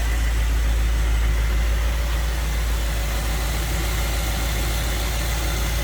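A 1958 Edsel Pacer convertible with a 361 V8 idles close by, a steady smooth low rumble with constant deep engine hum and no talk.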